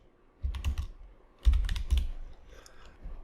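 Keys tapped on a computer keyboard while a page title is entered, two quick close bursts of clicking with a brief pause between, fading into softer taps at the end.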